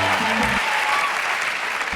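Audience applause from a comedy crowd, steady, dense clapping filling the room throughout, with a brief voice at the very start.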